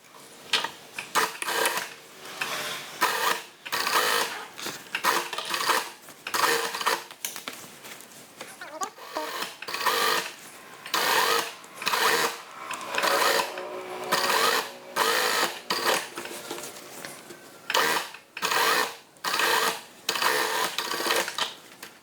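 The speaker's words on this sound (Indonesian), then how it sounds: "Saya akan jahit dari sebelah sini." A sewing machine stitches a child's half-circle gamis dress from the outside, running in many short, rapid bursts with brief gaps, fairly close and steady.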